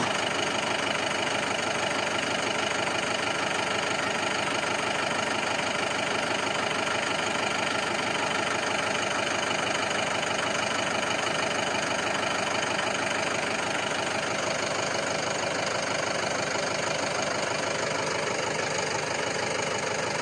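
A tractor engine idles steadily throughout, a constant mid-range rumble with no talk over it.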